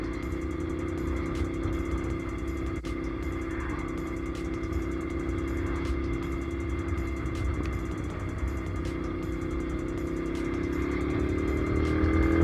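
A 2010 Ducati Monster 696 motorcycle engine drones steadily and close while riding, with a continuous low rumble and wind noise that rises slightly in pitch near the end.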